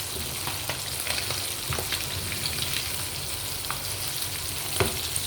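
Fish fries Sri Lankan style in a pan over low heat, giving a steady close sizzle broken by sharp crackles and pops, with no voices over it.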